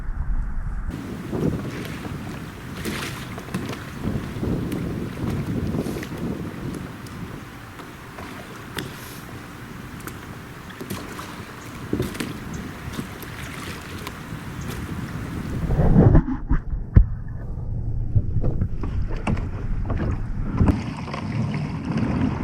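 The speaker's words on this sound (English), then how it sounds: "pedaling the Mako 12 is very easy, and as you can see, it picks up some decent amount of speed with very minimal pedaling effort" Riot Mako 12 pedal kayak moving across open water: a steady rush of water along the hull mixed with heavy wind buffeting the microphone, with occasional creaks and a louder knock near the end.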